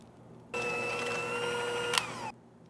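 An electric mixer whips butter and sugar for buttermilk banana bread batter: a steady motor whir that switches on, runs for nearly two seconds with a brief clack near the end, then stops, against a quiet kitchen.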